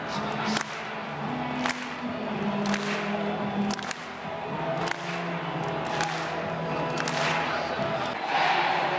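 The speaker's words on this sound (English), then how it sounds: "Crowds clapping" Crowd at a live wrestling event cheering and clapping during a wrestlers' entrance, a dense roar with sharp rhythmic claps standing out, heard from within the audience.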